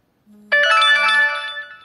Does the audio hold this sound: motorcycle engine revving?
no